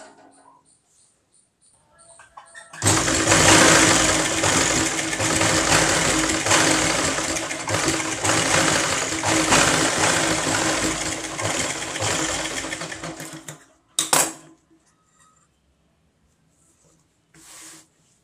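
A sewing machine runs steadily for about ten seconds, stitching the lining of a 32-inch belt blouse. It is loud and close, with a brief burst after it stops and no talk over it.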